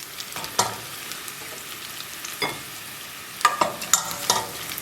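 Garlic sizzling in a pan for a Basque garlic soup, a low, gentle crackle broken by several clattering bursts of a utensil stirring and scraping the pan.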